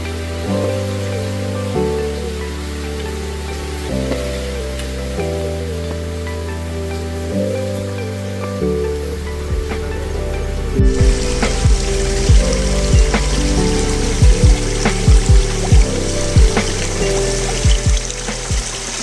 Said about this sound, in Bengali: পানি পড়তেছে